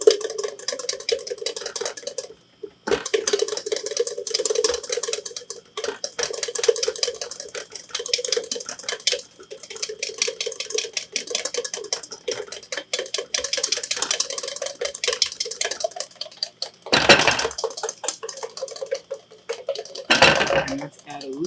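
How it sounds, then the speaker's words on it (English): A whisk scrapes and clicks rapidly against a pan while hollandaise-style sauce for eggs Benedict is beaten, in a steady metallic rhythm with brief pauses, close and fairly loud, with a person talking over it. "Let's go back to this as we whisk."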